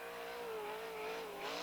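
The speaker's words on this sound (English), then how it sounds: "Down the backstretch in a 72 car, coming through turns 3 and 4 on this third-mile oval." A 1985 sprint car runs through turns 3 and 4 of a third-mile oval at the Eastbay Winternationals, its engine a continuous droning whine that wavers slightly in pitch, fairly faint and with no talking.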